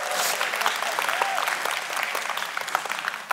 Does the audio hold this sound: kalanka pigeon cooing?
no